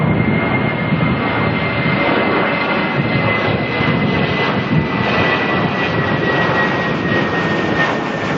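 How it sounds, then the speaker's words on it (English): A Jetstar airliner departing Auckland for Christchurch, its jet engines producing a steady, loud, broadband roar with a faint high whine throughout, heard alone with no talking. "Jetstar here heading off to Christchurch."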